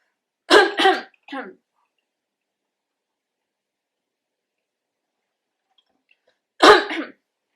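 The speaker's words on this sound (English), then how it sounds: "let me clear my throat" Someone clears their throat twice in quick harsh bursts, then a smaller one, and after a long silence gives one more loud close clearing.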